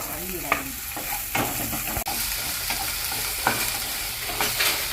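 Okra and onion frying in a pan for Kerala-style vendakka puli, a constant sizzle broken by stirring clatters and a sharp tap near the middle, close-up with no speech.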